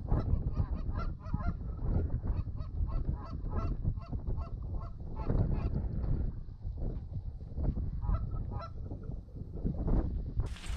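A flock of geese honks repeatedly over a floater decoy spread during late-season goose hunting, with dense overlapping calls coming close and loud for several seconds.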